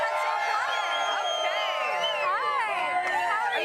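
Tailgate crowd of fans at the Super Bowl in Miami Beach, a steady wash of many voices with whoops and shouts rising above the dense, continuous chatter.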